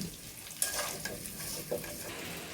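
Eggs frying in hot oil with a little turmeric, giving a steady close sizzle with a few light clicks and scrapes of a utensil against the pan.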